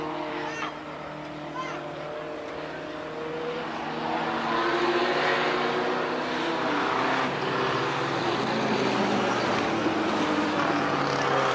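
Race cars lap Tonopah Speedway in a 1989 main event, several engines droning together with a steady, rising roar as the pack passes, while an announcer talks over them.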